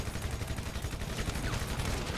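Rapid gunfire bursts in GTA V crackle in dense, repeated volleys for a couple of seconds, fairly faint and continuous with no voices.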